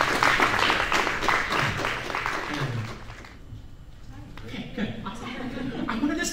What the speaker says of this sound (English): Folks, please put a round of applause for the infamous Faye Johnston.